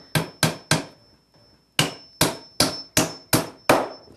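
A hammer drives nails into a wooden beekeeping frame with sharp, ringing blows in quick series, three strikes, a brief pause, then six more, close and loud.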